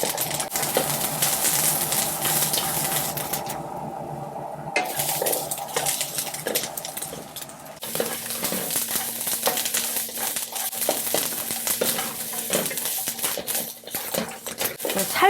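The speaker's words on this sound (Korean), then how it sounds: "그 표면만 볶아주시면 돼요" Shrimp and garlic scapes stir-fried in a hot pan, clattering utensil scrapes and metallic knocks over a faint frying hiss, busy and fairly close throughout with no speech.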